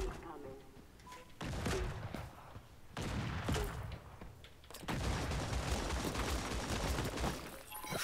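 Bursts of rapid gunfire from the shooter game Creative Destruction crackle in dense rattling stretches separated by short lulls, with voices talking underneath.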